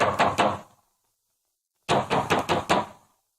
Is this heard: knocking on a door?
yes